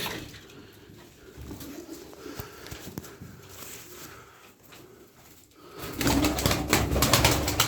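Turkish tumbler pigeons cooing in a loft, soft low coos repeating close by, then a louder flurry of flapping wings and rustling toward the end.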